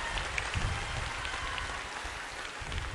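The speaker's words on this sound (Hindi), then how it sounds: "इसलिए आप अपने लिए ताली जरूर बजाएं" Audience at a political event applauds itself, a steady patter of many hands clapping at moderate distance, even and sustained throughout without voices.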